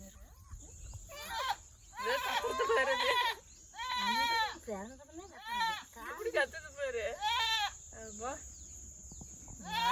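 A goat bleats repeatedly in wavering, nasal cries, close by in a farming village while giving birth, with a steady high whine in the background and occasional voices mixed in.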